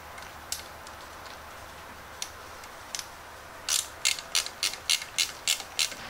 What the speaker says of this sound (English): fairly easy to screw in by hand